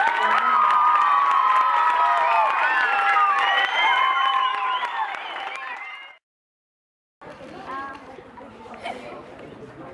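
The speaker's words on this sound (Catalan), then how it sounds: "Per favor, necesito un aplaudiment enorme para Ferrer" Audience at a children's musical of The Lion King at a summer camp breaks into loud applause and cheering for about six seconds, then falls silent before a voice and quieter crowd noise return.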